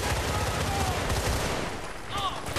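Dense, continuous turret gunfire from the video game Battlefield Bad Company 2 fills the whole stretch as a loud crackling roar, with brief game tones near the end.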